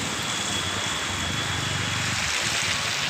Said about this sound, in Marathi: बघू शकताय तुम्ही पाऊस कसं पडत आहे